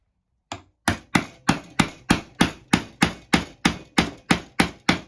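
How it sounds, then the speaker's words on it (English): A wood chisel struck with a mallet, close and loud, giving about fifteen sharp, evenly spaced blows into the wood after a brief silence. "the chisel won't be forced into the wood that I want to keep"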